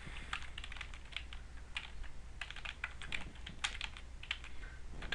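A password is typed on a computer keyboard with quick, steady clicking keystrokes, close and fairly quiet, with no talk.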